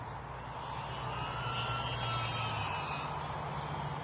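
A UMX A10 radio-controlled model jet airplane in flight gives a steady, fairly faint whine and drone that holds unbroken throughout, with a slight pitch shift midway and no voices.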